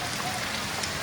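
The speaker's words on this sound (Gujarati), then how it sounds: "જબરજસ્ત વરસાદ પડે છે." Heavy rain falls during a power cut in a steady, dense hiss, close and unbroken for the whole second.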